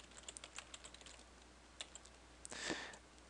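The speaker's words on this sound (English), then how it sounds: "So type in java.awt.graphics." Computer keyboard being typed on while entering Java code, a run of light, quiet keystrokes in a loose rhythm followed by a brief rustle near the end, with no voices.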